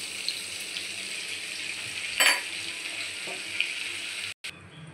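Whole garam masala spices frying in white oil and butter in a pan, an even close hiss of sizzling oil with a couple of brief scraping stir sounds and a sudden short cut near the end.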